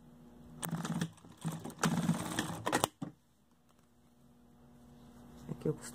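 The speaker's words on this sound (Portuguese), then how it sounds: "Eu vou costurar aqui só para mostrar para vocês como é que faz, rapidinho." A sewing machine stitching a collar runs in short close bursts of rapid mechanical clatter, separated by pauses, then falls to quiet room tone with faint handling noise.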